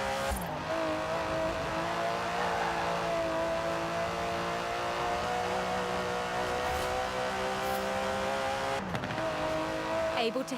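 Aston Martin DB11 twin-turbo 5.2-litre V12 engine in the Forza Horizon 4 racing game, a steady loud droning rev held throughout with tonal harmonics, a brief surge near the end, with someone talking over it.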